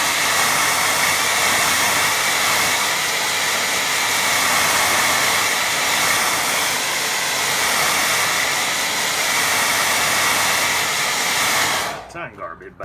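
A hair dryer blows steadily and loudly over a drying watercolour painting, a constant close roaring whoosh that holds for about twelve seconds before cutting off abruptly.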